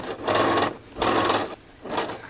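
Sewing machine stitching a flat felled seam on heavy jeans, three close bursts of rapid mechanical whirring separated by brief pauses, loud and without talk.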